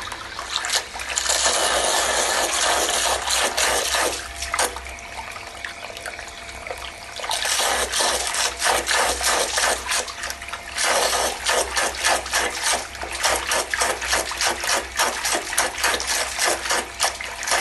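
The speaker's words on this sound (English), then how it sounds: "I will place it on the water to check its real pumping performance" A small 24V brushless DC pressure water pump pumps from a bucket, water gushing and splashing continuously in a loud, steady stream, with a brief softer dip partway through before the rush returns.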